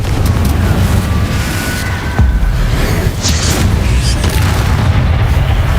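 Confringo blasting spell explosions in Hogwarts Legacy, a heavy booming rumble that fills the clip, dense and loud, with bursts and crackling impacts over a constant low roar of combat.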